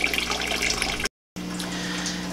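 Water runs steadily into a bucket for a fish tank water change in a home fish room, a continuous close splashing rush that cuts out briefly and then resumes.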